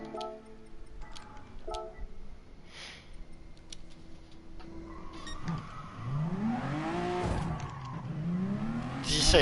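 A powerful race car in a racing video game pulls out of the pit lane, its engine revving and sweeping up through the gears with tire squeal. The roar grows louder and nearer toward the end and finishes in a sharp impact against a wall.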